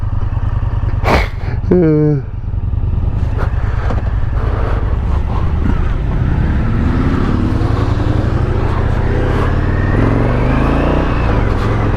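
Motorcycle engine droning steadily while riding a Scottish mountain road, with wind noise throughout and a brief sweeping pitch change early on, the engine rising and shifting through revs later.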